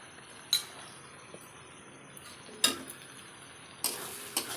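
Spices with salt and turmeric fry in oil for a chicken curry, a low quiet sizzle punctuated by three or four sharp metallic clinks of a spoon against the pan, close and without speech.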